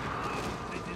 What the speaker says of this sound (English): Why are there gunshots?